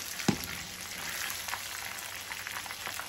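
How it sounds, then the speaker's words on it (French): Catfish pieces frying in hot oil, giving a steady faint sizzle and crackle with one brief sharp pop near the start and no talking. "Pendant la friture, ça saute."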